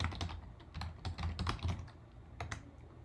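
A computer keyboard is typed on while grades are entered into a school grading system, producing quick, close clicks in uneven bursts that taper off toward the end, with no talk.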